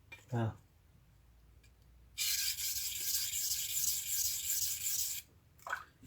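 Knife blade stroked steadily along a whetstone during a sharpening class, a continuous abrasive scraping that lasts about three seconds, fairly close and clear, with brief voice sounds before and after.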